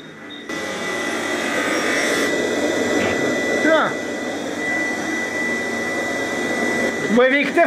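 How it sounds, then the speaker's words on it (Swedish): A sharpening machine grinding skate blades, a steady loud whirring roar that runs continuously with brief rising squeals, while someone speaks over it. "Vad är viktigast när man slipar?"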